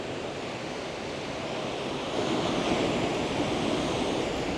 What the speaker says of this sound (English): look at those waves, that's crazy. There is some raw power here today.